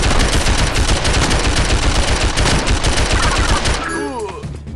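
Dense, continuous automatic gunfire from the mobile shooter Call of Mini Infinity during a team deathmatch, loud rapid bursts filling most of the moment before cutting off into quieter game sounds near the end.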